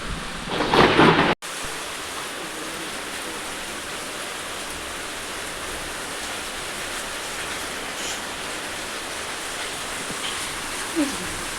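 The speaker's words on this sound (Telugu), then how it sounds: "వర్షం బాగా వస్తుంది." Steady heavy rain hisses continuously on a cool day, preceded by a brief louder burst at the start, with a faint thunder rumble barely distinct from the downpour.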